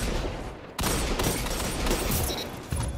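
Rapid gunfire from a competitive Destiny 2 match, loud dense bursts of shots with a sharp cut at the start and a fresh volley near the end, no talk over it.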